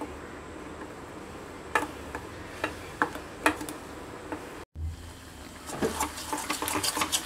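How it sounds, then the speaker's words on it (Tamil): Ground ginger is stirred through hot sugar syrup for ginger candy, with a spoon giving irregular light clicks and scrapes against the pan, a brief dropout midway, then a busier run of taps. "போட்டுட்டு கிளறிட்டே இருங்க, கை விடாமல் கிளறிட்டே இருங்க."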